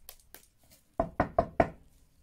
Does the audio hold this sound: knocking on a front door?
yes